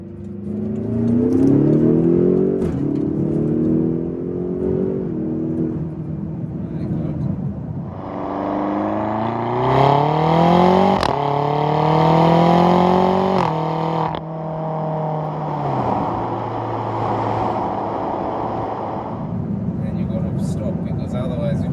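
A 580 bhp BMW X6M F86 SUV pulls hard in second gear, its engine rising loudly in pitch as it accelerates, easing, then climbing again, heard from inside the cabin with talk over it.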